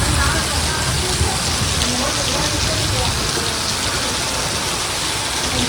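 Heavy rain pours down steadily and loudly outdoors with a dense, even roar, while voices talk faintly underneath; no distinct thunderclap stands out.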